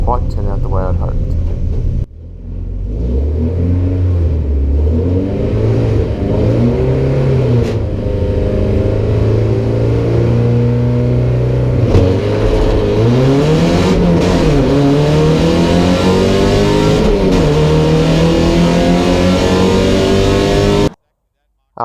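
A race car engine roars loudly during a race, climbing and falling in pitch through repeated gear changes and acceleration, with a narrator talking over it most of the time.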